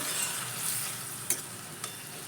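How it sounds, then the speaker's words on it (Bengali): Mixed vegetables fry with a constant bright sizzle and soft crackle as hot water is added, marked by two short sharp clinks. "এবার এর মধ্যে গরম জল অ্যাড করে দেবো"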